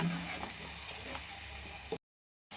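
Spicy masala paste for egg curry fries in a pan, a dense, even sizzle that runs continuously for about two seconds, then cuts to brief silence before resuming.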